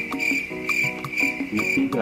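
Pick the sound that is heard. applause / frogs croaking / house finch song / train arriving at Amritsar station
frogs croaking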